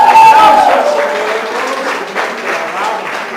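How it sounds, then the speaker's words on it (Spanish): Church congregation applauding during a Spanish-language worship service, a broad wash of clapping that starts loud and settles into a steady, slightly softer roar across the whole stretch, with a faint sung or spoken tone at the very start. "¡Aplausos, Señor!"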